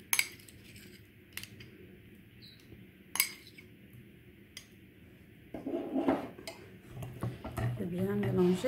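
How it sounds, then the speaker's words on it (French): Gelatin stirred into a mirror cake glaze in a bowl, giving scattered light clinks and taps of a utensil against the bowl, then a softer swishing, with faint background noise. "Et je rajoute, je mélange la gélatine."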